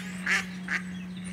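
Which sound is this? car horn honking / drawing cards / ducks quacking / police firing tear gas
ducks quacking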